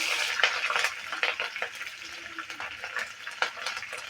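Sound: mustard seeds spluttering and chillies frying in oil

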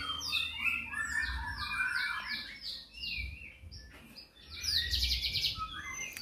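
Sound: seven-day-old Poksay Hongkong chick calling

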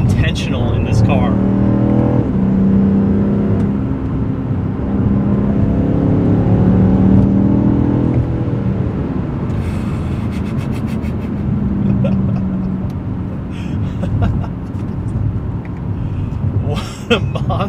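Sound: BMW M5 CS accelerating

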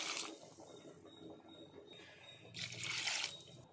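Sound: two glasses of water poured into mutton head curry

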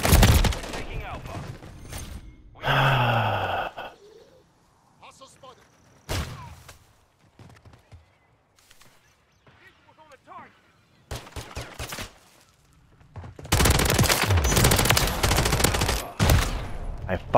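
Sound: gunfire in a video game

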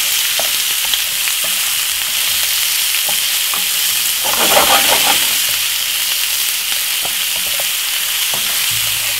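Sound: vegetables sautéing in a frying pan

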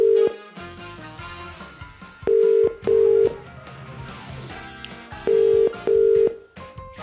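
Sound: phone ringing

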